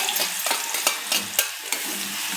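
Green chilies fry in hot oil with a bright, crackling sizzle close by, punctuated by a rhythmic series of stirring scrapes; no voices.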